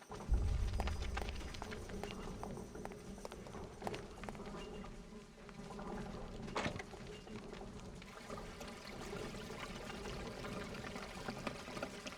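Flowing acid water in the video game Eternal Darkness, a steady rushing, pouring wash that runs continuously at moderate level with a few scattered clicks and knocks on top.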